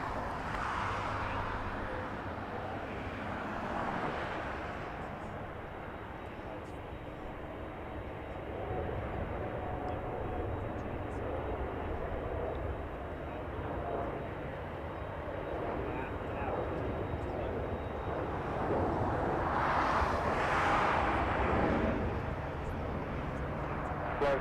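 A Turkish airliner taxis at Los Angeles International Airport, its engines a faint, steady distant roar that swells slightly near the end, under continuous air traffic control radio chatter.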